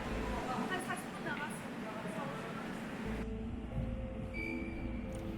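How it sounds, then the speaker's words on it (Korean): A metro train pulling into the platform at Munsan station, a loud rumbling roar of wheels and carriages with faint squeals and a sudden shift in tone partway through, heard nearby. "정확한 시간에 맞춰 전철이 들어왔고"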